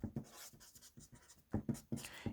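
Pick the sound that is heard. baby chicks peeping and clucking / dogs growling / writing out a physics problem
writing out a physics problem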